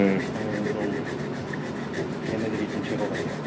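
Sandpaper torn into a small piece rubbing by hand over wood in a woodworking workshop, a steady close scratchy rasp running continuously with no pauses.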